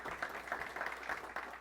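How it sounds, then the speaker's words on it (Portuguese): Soft, distant applause from a business panel audience, a brief patter of hands that stays quiet and even throughout. "Ana, uma salva de palmas."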